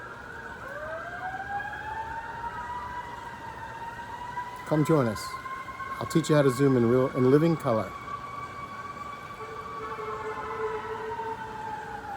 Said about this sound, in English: The sound of a fading siren.